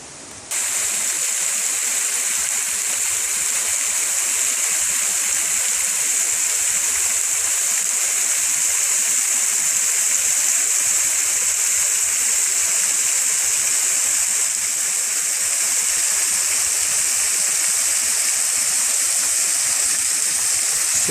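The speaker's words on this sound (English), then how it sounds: "Just a little waterfall, but it's a nice spot." A small waterfall at a state park pours in a steady, even rush of broadband hiss that runs unbroken throughout, with no voices over it.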